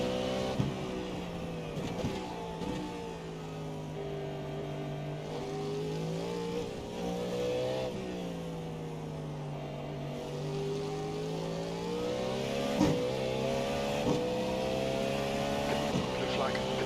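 Race car engines of GTP and GT3 cars drone and shift pitch continuously during a 12-hour endurance race at Sebring in iRacing, with steady engine tone through the whole stretch and occasional sharp peaks.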